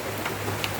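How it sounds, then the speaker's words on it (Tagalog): Rain comes down in a brief, even wash of hiss with a few distinct drop taps, close and steady, no voices. "Ayan na ang ulan."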